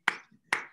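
Two sharp hand claps ring out about half a second apart, close and crisp, each with a short decaying tail and silence between.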